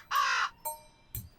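A crow gives loud, harsh caws, first one long call and then two shorter ones, close by and with no other sound.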